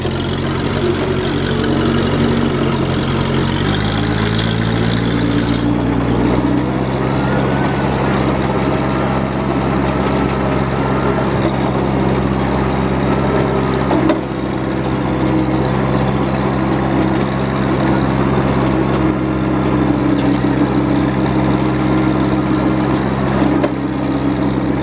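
Heavy machine engine idles steadily close by in the woods while the bucket is set, a constant deep rumble that shifts pitch slightly a few seconds in and then holds.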